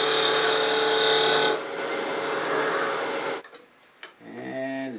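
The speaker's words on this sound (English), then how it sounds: "We're just going to take a planing cut to a nice smooth surface." A skew chisel takes a planing cut on a wood lathe while turning a one-piece snowman ornament: a loud steady whirring hiss of the spinning wood and blade for about three seconds, then it stops and the motor spins down.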